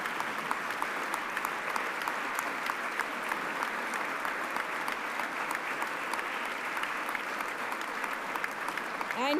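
During the 2024 Massachusetts State of the Commonwealth address by the governor, a large chamber audience applauds steadily, the clapping soft and somewhat distant, with faint speech mixed in.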